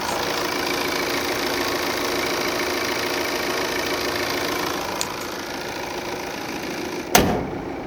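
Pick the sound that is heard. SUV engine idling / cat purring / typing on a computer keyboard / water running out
SUV engine idling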